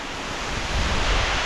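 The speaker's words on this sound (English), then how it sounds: "That waterfall is ripping today, man." Loud, continuous rushing water of a waterfall inside a cave fills the space with a dense roar, steady and close, blended with gusty wind noise.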